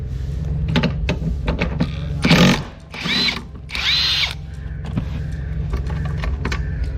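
A power tool loosens the last tight seat nut inside a Nissan 350z drift project car in three short whirring bursts, close and loud, over a steady low background hum.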